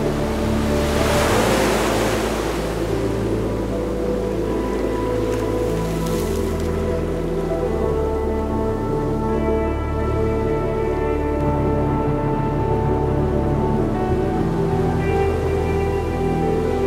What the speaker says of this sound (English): The crashing waves and cleansing wind drew us down to the tide, time after time.